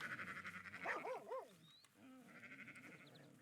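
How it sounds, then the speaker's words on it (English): Sheep bleat and a herding collie barks in a rural scene from Red Dead Redemption 2, with a few wavering bleats and short barks rising over a soft pulsing background, moderately close. "Oh no, not wild sheep, it's some bloke herding sheep."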